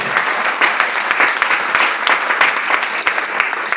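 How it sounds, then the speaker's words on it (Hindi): Loud, sustained audience applause for the teachers at a wellness company success event, many hands clapping in a dense, close crowd with no letup. "तालियां गुरुजनों के लिए।"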